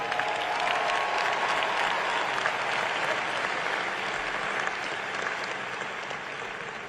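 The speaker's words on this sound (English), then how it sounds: "let us give our alum a warm round of applause and welcome" A large commencement crowd at Howard University applauds warmly and steadily, a dense, loud wash of clapping that holds for about seven seconds and fades slightly toward the end.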